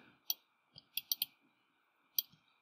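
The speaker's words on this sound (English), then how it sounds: "Click and release in the corner. And click again." Several sharp, close computer mouse clicks while drawing surfaces in floor-planning software, spaced irregularly: a single click, a quick cluster of three, then one more near the end, over a faint steady hum.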